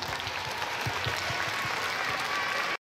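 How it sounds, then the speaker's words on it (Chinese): An audience of schoolchildren and teachers at a science museum event applauds a magician, a dense continuous burst of clapping at moderate distance that cuts off abruptly. "请大家再一次掌声感谢。"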